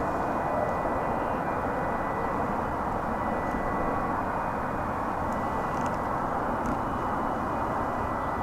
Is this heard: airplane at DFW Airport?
yes